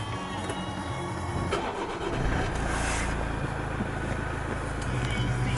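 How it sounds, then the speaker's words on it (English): A Toyota RAV4 engine cranks and catches, then settles into a steady low idle hum, heard from inside the cabin at moderate level. "Take a seat in, start the engine."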